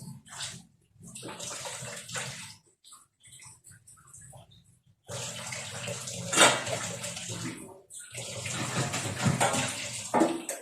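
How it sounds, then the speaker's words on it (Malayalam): Tap water runs over vegetables and a cutting board being washed for a bottle gourd stir-fry, splashing in bursts with brief pauses, then a steadier stream with clattering handling. "ഇനി ഇതെല്ലാം കഴുകി വൃത്തിയാക്കി കൊണ്ടുവരാം കേട്ടോ."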